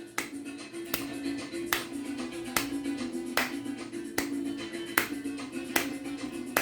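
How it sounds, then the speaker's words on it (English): Steady, evenly spaced claps or knee taps mark the beat in time with a soft, sustained piano tone, keeping a regular pulse of about one hit per second for a children's piano song. "so we're gonna do a nice clap, or you can tap on your knees"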